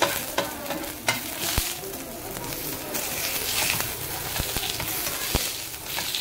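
Green chillies roasting in hot oil in a pan over low gas: a steady close sizzle with scattered sharp crackles and occasional clicks of a spoon pressing them down.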